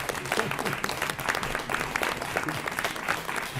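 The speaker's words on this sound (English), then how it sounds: "Now you can clap if you want to." Audience applause fills a concert hall after a closing prayer, a steady dense wash of many hands clapping at full strength throughout, with faint murmurs underneath.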